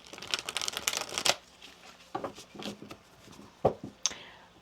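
Oracle and Kipper cards are shuffled by hand close up. A fast run of crisp riffling clicks is followed by sparser flicks and soft slaps of the deck, quiet and alone.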